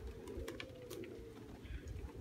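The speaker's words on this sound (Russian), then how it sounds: "Сели голуби или еще летают" Pigeons coo softly in a low, rounded murmur with a few brief flutters and chirps, heard close and steady against faint background noise, with no one speaking.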